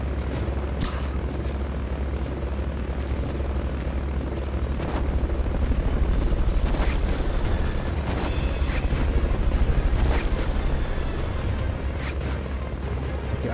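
Helicopters in Metal Gear Solid: Peace Walker hold a continuous low rotor drone with deep booming swells partway through, loud and steady throughout, with no talk.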